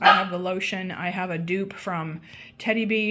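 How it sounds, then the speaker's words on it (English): A dog barks and yips in short bursts indoors, partly masked by someone talking close by. "I'm sorry about the barking. I don't know what he's barking at."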